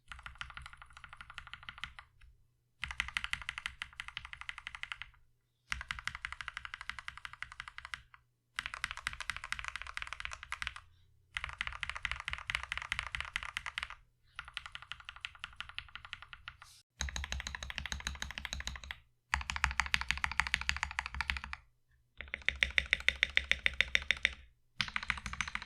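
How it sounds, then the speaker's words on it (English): Bursts of rapid typing on a mechanical keyboard with HippoKeys Unicorn switches, crisp clacky keystrokes with slight spring ping, in several separate runs of a few seconds each, with short pauses between, close and clear. "you can hear a little bit of spring ping from this switch"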